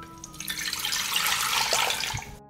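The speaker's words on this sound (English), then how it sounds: "I pour 1 liter of water into the pot." About a liter of water being poured into a cooking pot for a pepper marinade, a continuous splashing rush lasting a couple of seconds, close and fairly loud, then cutting off abruptly.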